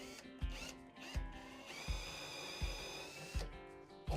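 A power drill bores through a guitar neck with a steady whine, broken by a few sharp low thumps as the bit catches and pushes through the wood.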